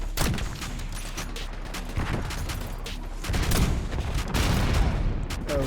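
An LR 7.62 sniper rifle in Black Ops 6 fires several sharp, loud gunshots with booming tails, spaced irregularly over in-game mechanical clatter and background noise, with no talk.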